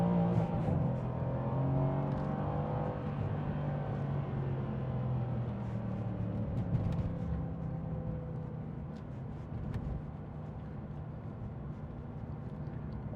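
A 2016 Mercedes-AMG C63 with a 4.0 V8 BiTurbo engine revving nearby, a steady deep rumble with rising and falling engine tones, fairly even in loudness throughout.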